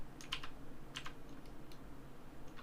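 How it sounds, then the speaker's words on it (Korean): Typing on a computer keyboard, a handful of faint, scattered clicks and taps in a quiet room with steady low background hum and no talk. "제가 키보드를 잘못 눌렀네요."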